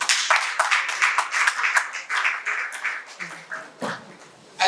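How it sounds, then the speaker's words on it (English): A small audience at an International Youth Day event claps for a speaker, uneven, sparse applause with distinct individual claps that thins out and fades near the end. "I think she deserves a better applause"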